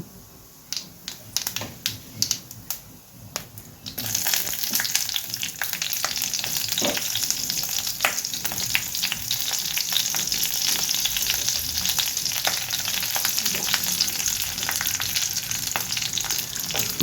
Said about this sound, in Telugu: పచ్చిమిర్చి కన్నా పండుమిర్చి వేసుకుంటే ఇంకా బాగుంటుందండి ఇప్పుడు ఇవన్నీ శుభ్రంగా వేపుకుందాము